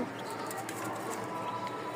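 Soft pigeon cooing blends into a constant background hum, low and fairly distant.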